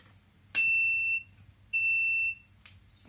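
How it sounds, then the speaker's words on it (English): Turn signal on a Hitway H5 electric scooter gives two clear, evenly spaced electronic beeps, each held about half a second, close and fairly loud against a quiet background. "Oh yes, it has turn signals."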